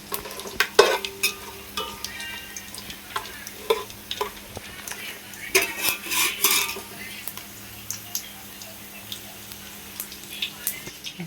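Prawns and eggs fry in oil for a biryani, a soft sizzle under repeated scrapes and clinks of a metal spoon stirring in the pan, in uneven bursts close at hand.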